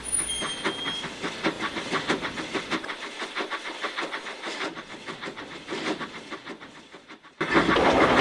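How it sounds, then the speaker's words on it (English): Thomas the steam engine puffs along the track in rhythmic chuffs over a rolling clatter of wheels, steady and fairly close. A short high whistle-like tone opens the passage, and a brief quiet gap breaks the motion before it resumes. "Feeling victorious, Thomas puffed away."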